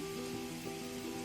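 Onions and sausage frying in oil in a pan, a steady dense sizzle with crackling bursts and an underlying hum, heard alone and close.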